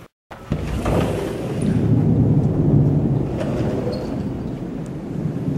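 Thunder rolls in a long, low, sustained rumble during a storm with only a light sprinkle of rain, loud and steady throughout after a brief silent start.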